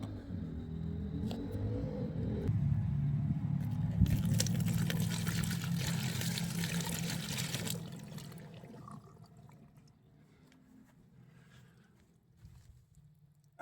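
Water is poured over a Porsche Boxster 986 to flush its drainage holes, giving a close, rushing splash over a low rumble for several seconds. The splashing then stops and only a faint trickle and quiet background remain.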